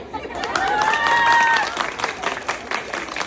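Guests at a henna night clap together in a sustained burst of applause with some crowd noise, while a high tonal melody rings over the clapping.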